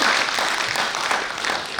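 Audience applause at a poetry recital (kavi sammelan) in New Delhi, a dense steady wash of many hands clapping at fairly close range, sustained evenly without pause.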